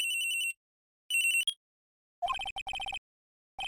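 Electronic chirping ringtone of a cell phone in Phoenix Wright Trials and Tribulations, two short beeping bursts followed by a quicker stuttering run of tones, clean and isolated.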